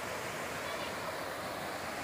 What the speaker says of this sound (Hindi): कल कल कहता हुआ बहता हुआ पानी